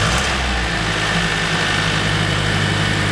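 A Mercedes AMG 45 engine idles steadily after a coolant leak repair, a loud, even mechanical hum and whir close by with no break.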